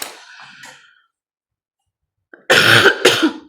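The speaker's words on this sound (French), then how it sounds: "Je suis désolée, franchement, de tousser comme ça." Two harsh coughs come close together near the end, loud and near, after a short stretch of quiet breathy noise and a brief silence.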